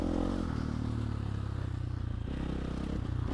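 Husqvarna 450 Factory Edition motocross bike on a dirt track, engine running loud and steady close by with a strong low drone and buzzy harmonics, some clatter and scraping mixed in.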